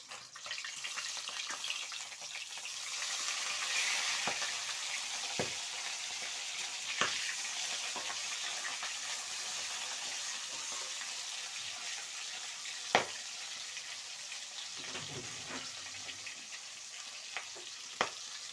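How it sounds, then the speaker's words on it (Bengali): Rohu fish pieces frying in a pan: a continuous close sizzle with occasional spatters and light scraping or turning sounds, and no voices over it. "এমনি করে লাল লাল করে মাছটা আমি ভেজে নেবো"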